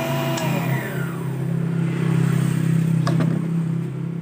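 A GOSO key duplicating machine running steadily with a low, even motor hum and whir, close and loud, with a brief clatter near the end and no talk.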